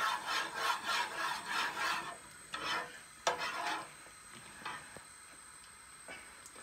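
A spoon scraping and stirring in a bowl of vegan donut batter, a series of rhythmic rubbing strokes that become sparser and fainter toward the end.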